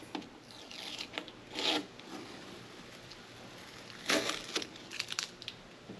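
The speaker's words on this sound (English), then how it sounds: "And now this time I'm gonna take off the tape. So basically I'm just peeling it off." Tape is peeled off a gloss carbon fiber spoiler, with several rasping, crinkly tearing bursts separated by quieter pauses, close and moderately loud, with no talk.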